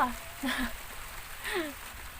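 Rain falls at a rural planted-forest homestead as a soft, continuous hiss in the background, while someone speaks over it up close.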